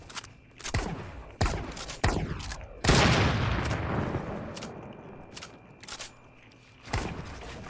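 Gunfire from the Fortnite video game: several sharp, separated shots crack out, one heavier blast rolls off into a long decaying tail, and a few more shots follow at moderate loudness.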